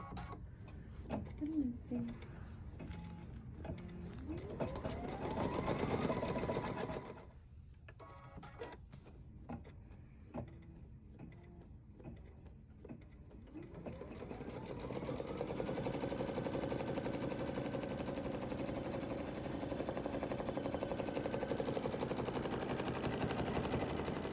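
After its green start button is pressed, a sewing machine runs, giving a rapid rattling, chattering hum with rising whines. The sound stops briefly midway, then continues steadily and close.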